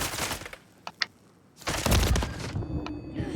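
Gunfire in Call of Duty Modern Warfare 3 ranked play, a few sharp shots early, then a loud burst of rapid fire and impacts in the second half.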